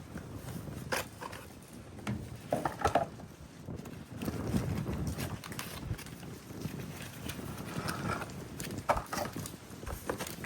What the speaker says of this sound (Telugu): గాలి ఎక్కువగా ఉంది.